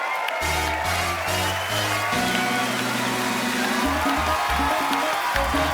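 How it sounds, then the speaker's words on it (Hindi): Studio audience applauding and cheering as a family is welcomed on stage at a comedy show, a loud continuous crowd wash with music playing underneath throughout. "एक बार जोरदार तालियों से स्वागत करिए"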